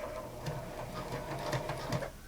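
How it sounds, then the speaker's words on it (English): A sewing machine running a zigzag stitch over the edge of elastic gives a close, steady mechanical whir with quick rhythmic needle ticks for a couple of seconds. "I'm just going to use a slider zigzag stitch and just try to encapsulate the edge of that"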